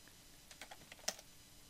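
Keys clicking quietly on a computer keyboard as a shortcut is entered, a few soft irregular taps with one sharper stroke, faint and close against a low background hiss.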